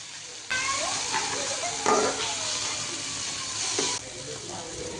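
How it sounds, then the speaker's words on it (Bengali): Steamed Malabar spinach stir-fried in a pan, with a steady sizzle and scraping stirs, including a couple of sharper spatula strokes, close and moderately quiet. "এরপর এগুলোকে ভালোভাবে নেড়ে চেড়ে নিব।"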